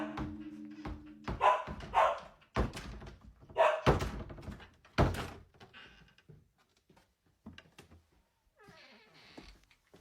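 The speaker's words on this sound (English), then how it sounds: "The door is shaking on its hinges with a rhythm and a force that suggests something very specific on the other side." A door shakes and bangs hard on its hinges in a series of loud, irregular thuds and rattles, close by, fading to quieter scrapes and creaks.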